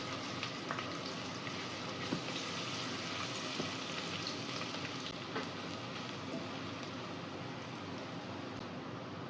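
Ginger garlic paste cooks in a hot pan, giving a steady, even sizzle and crackle with small pops throughout, fairly quiet and uninterrupted, with no voices.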